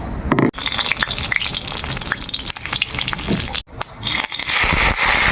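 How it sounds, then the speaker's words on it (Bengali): A dried red chili, cumin seeds and curry leaves crackle and sizzle hard in hot oil, a loud, close frying hiss broken by brief dropouts and sharp spitting bursts. "একটা শুকনো লঙ্কা, একটু জিরে আর কটা কারি পাতা নিয়েছি। এটা আমি তেলের মধ্যে ফোড়ন দেবো।"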